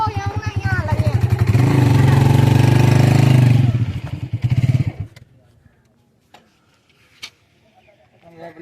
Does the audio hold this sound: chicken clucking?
no